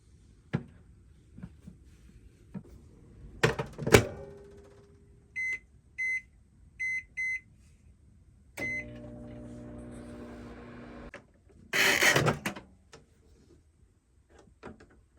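A microwave oven hums steadily for a few seconds amid kitchen clatter, followed by a run of electronic beeps and a door clunking open nearby.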